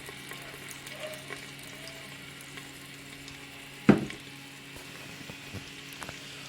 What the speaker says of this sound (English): Is already hot, so I'm going to put 1 cup of oil